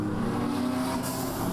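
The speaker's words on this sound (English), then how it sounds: "You can hear the whooshing of the cars as they go onto the throttle, lift off the throttle and go through the gearbox." Race cars on a circuit rumble with a steady, loud engine drone, pitch shifting slightly as throttle is applied and lifted through gear changes, a continuous mechanical roar with no voices.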